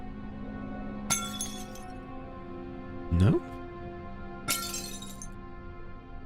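Objects being smashed in Amnesia: The Dark Descent give off glassy breaking crashes, one sharp shatter early, a heavier impact mid-clip and a bright shatter near the end, with quiet ambient tones and brief talk between them.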